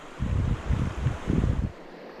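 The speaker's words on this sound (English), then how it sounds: "the wind's blowing so hard" Strong wind gusts buffet the microphone outdoors beside a stream in the Laurel Highlands while fly fishing, giving low, rumbling surges in several waves before easing off.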